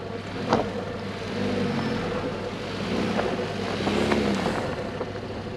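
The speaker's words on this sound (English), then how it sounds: "Transmission's already struggling." Kia Seltos engine and transmission labouring up a steep test hill on a hot day, a steady low drone with faint whine and rattles beneath, wind noise throughout, no talking.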